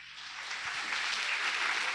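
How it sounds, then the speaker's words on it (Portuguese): Church congregation applauding during a service, a dense wash of many hands clapping that swells slightly and holds steady for the whole two seconds. "Aplauda bem forte ao Senhor."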